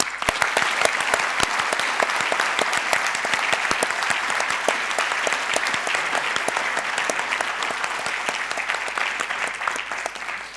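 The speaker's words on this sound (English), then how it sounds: "I want all you to now give a nice big round of applause for the people who have paid" A closing ceremony audience at the Wanderers Club gives steady, dense applause that holds at an even level for about ten seconds, with many sharp individual claps standing out in the crowd.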